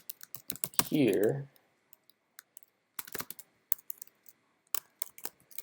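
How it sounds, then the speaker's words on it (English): Fingers type on a computer keyboard, sparse close clicks coming in quick clusters with pauses between, and a brief spoken word near the start. "So type your review"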